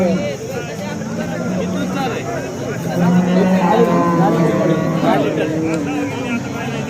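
A cow moos loudly and repeatedly at close range at the Sangola cattle market in Maharashtra, its low calls overlapping with other cattle and background voices in a busy outdoor setting.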